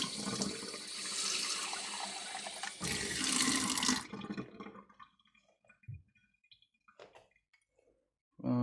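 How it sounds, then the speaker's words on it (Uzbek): Tap water runs hard from a faucet for about four seconds, then cuts off, leaving faint drips and small clicks in a quiet room. "Bunga krandan chiqayotgan suv."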